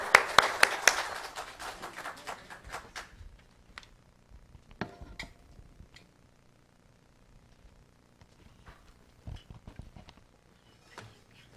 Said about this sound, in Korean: 우리 교사들에게도 애쓰고 수고하는 교사들 다 같이 박수 한번 쳐줍시다